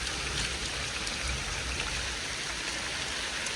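Heavy rain pours down steadily in a forest, a dense, loud, unbroken hiss of drops on leaves and ground, with no voices over it.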